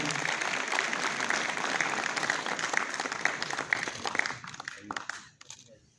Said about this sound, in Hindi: जोरदार तालियां इस मौके पर।